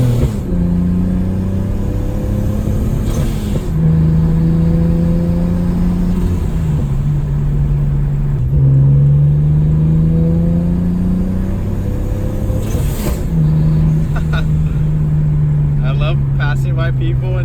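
A boosted Nissan 350Z revs repeatedly, its loud engine note climbing and falling in several sweeps with sharp crackles between, while people talk over the idle.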